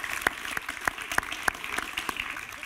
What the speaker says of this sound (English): a round of applause, everyone, for the panel.